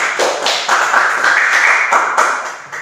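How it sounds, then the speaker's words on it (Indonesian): A group of schoolchildren claps for another group of students in a primary classroom, giving a steady, loud round of hand clapping that lasts a few seconds. "berikan tepuk tangan untuk kelompok Berti."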